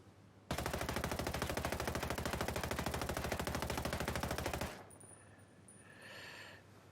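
Continuous full-auto fire from a 516 Shorty shotgun in Ghost Recon Breakpoint, a loud unbroken rattle of rapid shots lasting about four seconds before cutting off abruptly.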